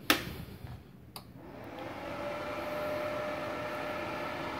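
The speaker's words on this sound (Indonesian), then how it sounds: "Yang pertama, kita nyalakan mesinnya terlebih dahulu." A 450-watt gasless MIG welding machine is switched on for welding 1.5 mm steel, giving a sharp click followed by a steady, rising hum and fan whir that continues without any talk.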